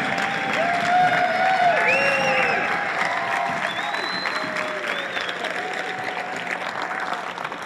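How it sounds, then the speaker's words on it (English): Sustained audience applause fills a lecture hall, loud at first and slowly easing off, with scattered whistles and cheers rising over the clapping. "Can we just give him a big round of applause for making this happen?"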